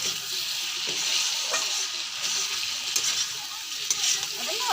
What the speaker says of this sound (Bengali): খুব সুন্দর করে নাড়াচাড়া করে নেব এপাশ ওপাশ করে।